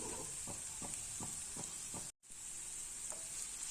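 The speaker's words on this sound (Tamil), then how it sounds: "அப்படியே மீடியம் ஃப்ளேம்லேயே வச்சு நல்லா வேக விட்டு எடுத்துடலாம்" Colocasia (taro) roast frying in a pan over a medium flame: a steady bright sizzle with several soft stirring scrapes, cut by a brief silent gap midway, then continuing alone.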